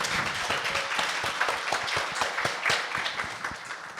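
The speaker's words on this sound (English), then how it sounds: "Let's give her a round of applause, everyone." An audience at a nightlife preservation panel claps for a panelist, a moderate, continuous smatter of hands over a room murmur, steady and even throughout.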